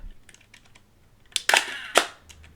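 A Kiev 88 medium format film camera fires its shutter at half a second, giving a loud mechanical snap, a short whirring hold and a closing clack, preceded by faint clicks of the camera being handled.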